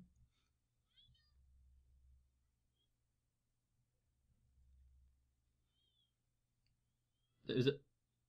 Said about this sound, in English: And he's meowing.